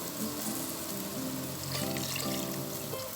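A small cup of water pours into a hot pan of tomato sauce while making moussaka, giving a steady rushing splash and sizzle close by with no talking.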